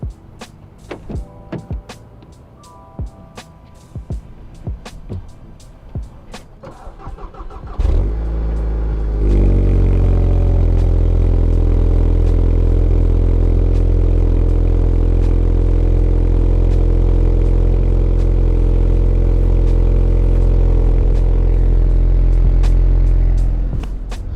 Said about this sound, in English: I guess I should give you a little cold start for now. So this is full stock exhaust, nothing done to it.